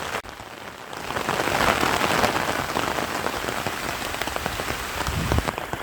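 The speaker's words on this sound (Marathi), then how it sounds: "जोराचा पाऊस चालू आहे" Heavy rain pours steadily over a cotton field in a Maharashtra village, a dense, loud hiss that swells slightly and holds for the whole stretch with no voices.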